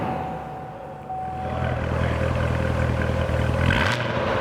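A 2015 Chevrolet Corvette Z06 fires up at the push of its start button: a quiet moment, then the engine catches and settles into a steady, close idle rumble, with a brief rise near the end.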